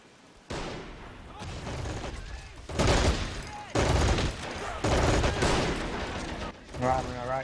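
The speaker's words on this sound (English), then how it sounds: "good old fight at the top here" Video game battle in Men of War 2 Assault Squad: loud bursts of rifle and machine-gun fire crackle in repeated volleys, with distant shots and a brief rising whine near the end.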